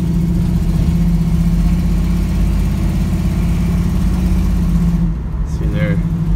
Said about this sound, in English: Let's go ahead and throw it in gear here and drive.